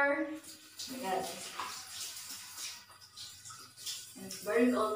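Cold shower water running in a bathroom, a soft continuous spray of water heard beneath someone talking and reacting over it.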